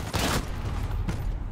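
Gunfire in the Call of Duty Modern Warfare video game, a loud dense burst of shots with a heavy rumble, close and continuous through the moment.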